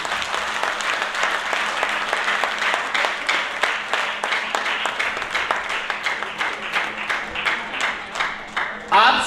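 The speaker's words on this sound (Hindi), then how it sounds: "एक बार जोरदार तालियां इन सभी लोगों के लिए।" An audience at a training programme breaks into loud, dense applause that holds steady for about nine seconds before thinning out at the end.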